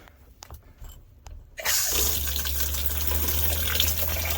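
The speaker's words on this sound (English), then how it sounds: "Now we're gonna do the shower." A camper shower is switched on after some quiet handling clicks, and water then runs in a steady, loud, continuous rush through to the end.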